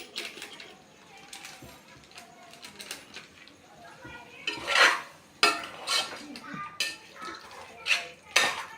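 Biryani masala is stirred in a cooking pot, giving scraping metal clinks and knocks that grow louder and more frequent in the second half, with faint talk in the background.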